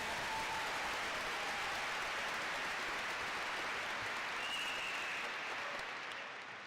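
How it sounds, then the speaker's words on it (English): A large crowd at a high school graduation ceremony claps steadily in sustained applause, a dense wash of handclaps that holds, then begins to fade at the end. "can we get some applause for the students who have worked so hard the past 12 years"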